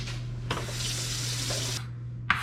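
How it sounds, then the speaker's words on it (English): Cold tap water runs steadily into a cooking pot at a kitchen sink, a continuous close hiss and splash that stops abruptly, followed by a brief clatter. "I'm gonna go and put these in a pot of cold water."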